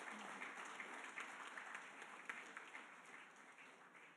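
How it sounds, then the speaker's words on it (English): An audience claps steadily at a young alumni meet, a faint, even wash of many hands that tapers slightly toward the end. "Now you can clap."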